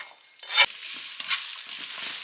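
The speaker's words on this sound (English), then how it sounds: "you're just going to stir your onions around in the oil and let them start cooking up" Chopped onions sizzle in hot oil in a skillet, a steady high hiss broken by scraping stirs, one sharp clatter early on, with no talking.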